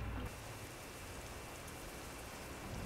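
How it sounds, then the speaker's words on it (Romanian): Steady rain falls on a truck while driving through a spring downpour in Euro Truck Simulator 2, a constant dense hiss with no break, following a brief louder burst at the start. "E primăvară, aoleu, primăvară, dar plouă non-stop."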